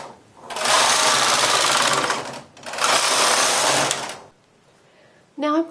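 A domestic knitting machine carriage sweeps across the main bed for a few rows of part-button knitting while making slipper fabric, giving two loud, steady whirring passes with a short pause between them. A brief faint clatter follows before a voice begins.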